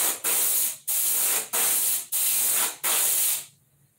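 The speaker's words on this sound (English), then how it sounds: "It's a dual action airbrush. Push down for air and back for paint." An Iwata Eclipse dual action airbrush sprays paint in five loud, close bursts of broad hiss, evenly spaced with brief gaps, before the air cuts off into near silence.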